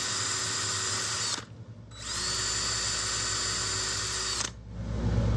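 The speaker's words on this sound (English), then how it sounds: "now that my holes are drilled" Power drill boring scale pin holes in a pocket knife handle for copper spring pins, a steady close whine running in two long bursts broken by a brief pause, with a short restart at the end.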